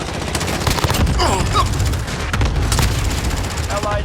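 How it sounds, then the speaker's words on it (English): Cluster strike explosions and gunfire in a military shooter video game, dense overlapping bursts and booms filling the clip loudly, with game voice chatter and radio-style callouts mixed in. "Cluster strike away."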